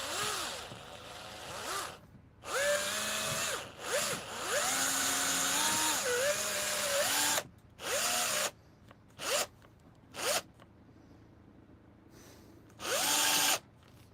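A cordless drill works on a van, whirring in repeated bursts that rise and fall in pitch as the trigger is pressed, with several short runs separated by pauses, close and fairly loud.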